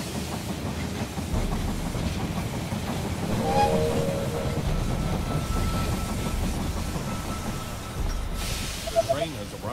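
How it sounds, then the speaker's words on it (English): A train arriving at a station in the strategy game They Are Billions, with rolling rail clatter and a faint horn over game ambience, continuous and moderately loud throughout. "The train has arrived at the station."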